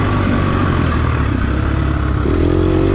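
Loud, close dirt bike engine droning and revving steadily while riding off-road, with rattling chain chatter running through the whole stretch.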